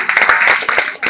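Audience at a college entrepreneurship session clapping, a short burst of close, loud claps with uneven rhythm lasting about a second.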